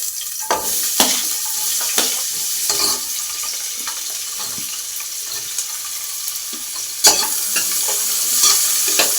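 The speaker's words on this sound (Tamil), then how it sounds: "நல்லா வதக்கிக்கலாம்." Sliced big onions sauté in hot oil in a pan with bay leaf, cinnamon, cloves and star anise, a crackling sizzle punctuated by repeated sharp spatula scrapes and knocks, close and loud with no talk.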